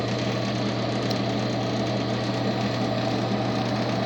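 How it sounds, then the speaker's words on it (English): A Sun distributor test machine runs steadily while a module rebuild is calibrated for dwell, giving a continuous close mechanical hum with a faint tick and rattle throughout and no break. "So if we put the machine on"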